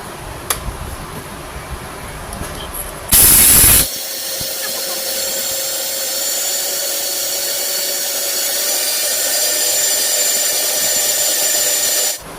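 A Panasonic mixer grinder grinds powder, starting with a short loud burst and then settling into a steady, loud motor whine that holds for about eight seconds before cutting off.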